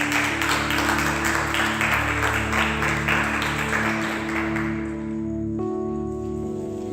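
A church congregation applauds and cheers the Lord over sustained keyboard chords. The dense clapping holds steady, then thins and fades out, leaving only the music.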